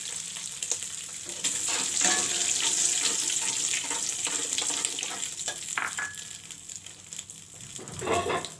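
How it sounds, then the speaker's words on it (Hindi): Mustard seeds frying in hot oil for a masala fish curry, a steady close sizzle with light crackles and stirring clatter, no voices. "इसको हम ऐड करके अच्छे से फ्राई कर लेंगे।"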